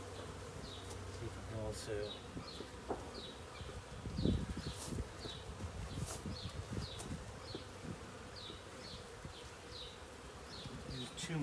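Honeybees buzzing steadily and densely around an opened hive during an inspection, a constant insect drone with occasional louder passes near the microphone, while a person speaks briefly and equipment is handled.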